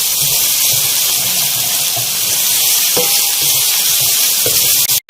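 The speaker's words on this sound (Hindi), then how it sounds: "हमें यहाँ प्याज को इतना फ्राई करना है कि इसका कच्चापन ख़त्म हो जाए" Onions fry in a pan with a loud, steady, close-up sizzle and hiss, broken by occasional soft stirring knocks and ending abruptly.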